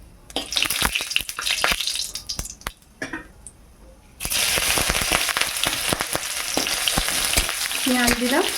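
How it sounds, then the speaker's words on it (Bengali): Chillies and panch phoron hitting hot oil: a few pan clatters and stirring knocks, then a sudden loud, continuous sizzle that crackles on steadily, close up. "লঙ্কা আর 5 ফোড়ন দিয়ে দিলাম"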